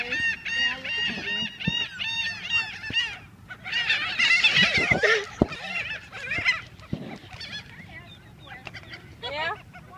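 Geese honk repeatedly beside a road, a loud close flock calling in overlapping bursts with brief pauses, alongside faint background noise.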